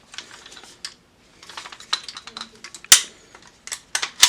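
An airsoft rifle's metal bolt racked back and forth several times, producing close clicking and clacking mechanical snaps in quick irregular bursts, with faint talk in the gaps.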